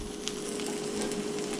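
Food fries in oil in a seasoned iron skillet for a Southern breakfast, a close, even crackling sizzle that runs without a break, with a low hum underneath and no talking.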